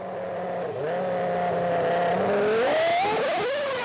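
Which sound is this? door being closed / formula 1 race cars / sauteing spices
formula 1 race cars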